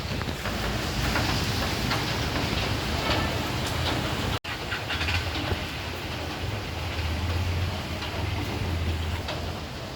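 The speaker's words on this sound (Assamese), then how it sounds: "এতিয়া বাহিৰত সাংঘাতিক বৰষুণ পুৰা বৰষুণ" Heavy rain pours down outdoors as a dense, continuous hiss. It holds steady throughout, with a low rumble underneath and only a momentary break, and no one speaks.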